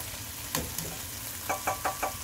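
Eggs fry in a Dutch oven at a cabin breakfast, giving a steady soft sizzle with a few light knocks and scrapes from a utensil against the pot.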